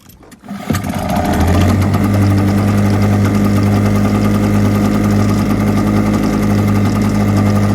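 A pull-start two-stroke outboard boat engine, choked and primed, catches after a short rattle and settles into a loud, steady, throbbing idle close by.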